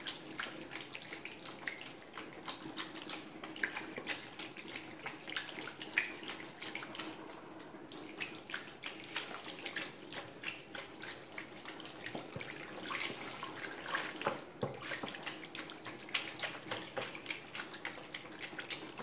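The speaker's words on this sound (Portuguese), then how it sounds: "Agora eu vou começar a colocar a água. Vou colocar 4 litros de água quente, mas vou colocar bem devagar" Hot water is poured slowly into a container of homemade liquid soap ingredients, a steady, fairly quiet splashing and trickling that runs continuously without talk.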